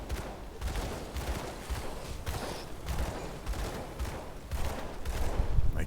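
Gunfire from the video game Grim Dawn while shooting at a swarm of spiders, rapid repeated shots in a steady dense burst, moderately loud with no talking.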